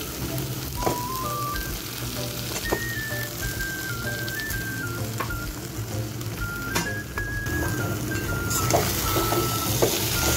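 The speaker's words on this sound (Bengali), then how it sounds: "এবার মাছের মাথা ভেজে রাখা যেটা রয়েছে সেটা আমি দিয়ে দেবো" Fried rohu fish head dropped into a pan of potatoes, bringing a steady close-up sizzle and frying hiss with occasional scrapes and stirs, while faint tonal music plays underneath throughout.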